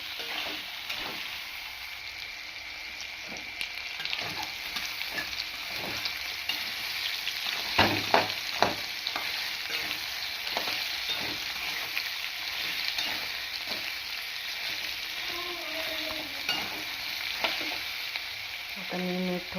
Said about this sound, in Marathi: सोयाबीन बटाट्याची भाजी. चांगलं लाल असं भाजून घ्यायचं